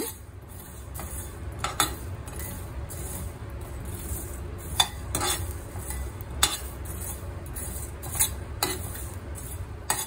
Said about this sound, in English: After roasting the coriander seeds for 3 minutes, I'm going to put it into a plate so that I can spread it for it to cool down